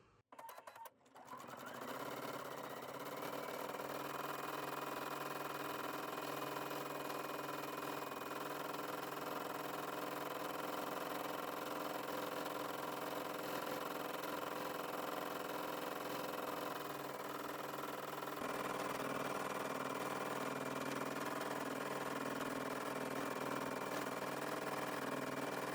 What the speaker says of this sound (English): And then I am going to take this to my machine and do a little bit of free motion